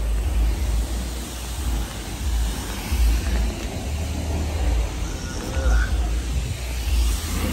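A Dodge ScatPack with a nearly straight-piped exhaust rumbles loud and low in a continuous, swelling drone, heard from close by with muffled talk mixed in.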